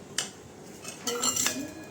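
A spoon scooping pav bhaji from a pot into a bowl, giving a sharp clink followed by a couple of scraping knocks of metal on metal, close and fairly quiet.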